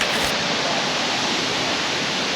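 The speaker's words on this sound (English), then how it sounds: "this is the best waterfall in the whole Atherton Tablelands" Millaa Millaa waterfall in the Atherton Tablelands, Queensland, roars loud and close as a dense, constant rush of falling water, with nothing else heard.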